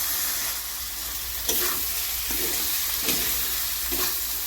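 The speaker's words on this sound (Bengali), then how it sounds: "এই আলুগুলোকেও আমি চিকেনের সাথে ভালো করে কষিয়ে নেব।" Boiled potatoes stir-fried with chicken in a pan for bhuna chicken gravy: a constant close sizzle with periodic scraping stirs of the spatula, no voices.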